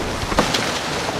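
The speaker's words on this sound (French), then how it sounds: "Soudain, le vent forcit." Strong wind buffets a sailboat at sea as the breeze suddenly picks up, a steady loud rush of noise with faint gusts and no speech.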